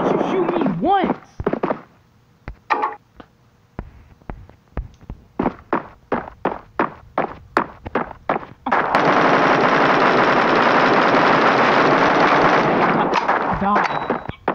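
Gunfire in the multiplayer shooter Bullet Force rings out as loud, evenly spaced single shots close by, then breaks into a long sustained automatic burst, with a voice heard at the start.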